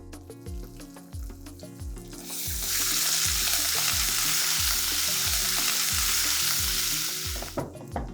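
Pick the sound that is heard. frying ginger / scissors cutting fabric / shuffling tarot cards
frying ginger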